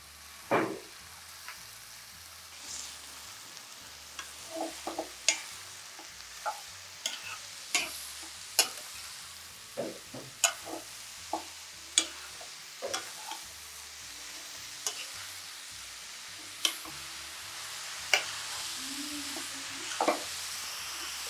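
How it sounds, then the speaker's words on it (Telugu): Grated bottle gourd sizzles softly in ghee for a halwa, with a quiet steady fry under a series of sharp spoon taps and scrapes against the pan as it is stirred, and no voices. "ఇది మన తురుము బాగా నేతిలో వేగింది"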